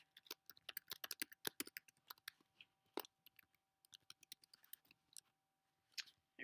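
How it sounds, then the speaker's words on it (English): Rapid, crisp keystrokes on a Mac computer keyboard tap out a password in uneven bursts, close and quiet, with a brief pause before a final few clicks. "let's go ahead and type the password in"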